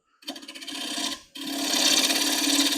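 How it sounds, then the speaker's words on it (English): A spindle gouge cuts a bowl turned from firewood on a wood lathe, giving a steady raspy scraping hiss with a low humming tone, briefly pausing before the cut resumes louder and continues alone. "still using my spindle gouge"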